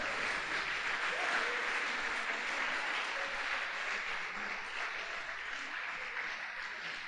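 A church congregation applauds in praise, broad sustained clapping from a full room that holds steady for several seconds, then eases slightly toward the end.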